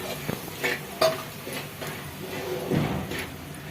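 Foxtail millet flour roasts in ghee for laddus, a soft crackle under spoon-scraping against the pan, with a few clinks and thumps in a short, quiet stretch.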